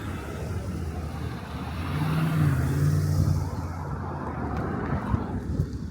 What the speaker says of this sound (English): a lot of traffic here on 81st Street.